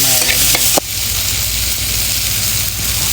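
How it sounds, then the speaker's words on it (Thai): Tomatoes stir-fried in a hot pan give a loud, steady sizzle that fills the whole stretch, with a spatula scrape or two at the start and no talking. "นี่มะเขือเทศ ใส่ลงไป ผั ดมะเขือเทศนะครับผัด"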